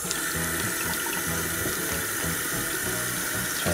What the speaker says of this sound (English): And you rinse it off.